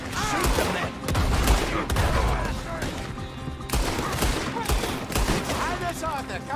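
Gunfire from the video game Red Dead Redemption 2 cracks in rapid bursts of loud shots, mixed with shouting voices and chaotic action.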